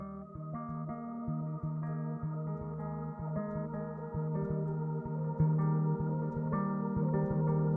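A clean, dry electric guitar picks a repeating pattern of notes at moderate volume, with no echo or added effects.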